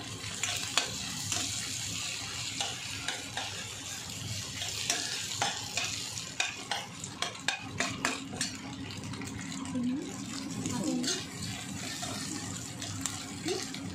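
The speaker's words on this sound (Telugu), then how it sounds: "ఇంకొంచెం లిటిల్గా ఫ్రై చేయాలి, ఒక 2 minutes." Egg frying and being stirred in a pan for egg fried rice, a soft continuous sizzle broken by quick scraping strokes of a spatula, with a few words spoken quietly over it.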